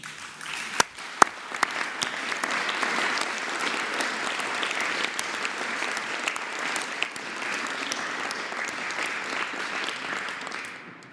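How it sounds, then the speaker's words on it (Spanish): An audience at a Mexican event applauds the children who were special guests, giving dense, steady clapping for about eleven seconds, with a few sharp louder claps near the start before it fades at the end. "Bueno, entonces vamos a aplaudirle a las niñas y a los niños."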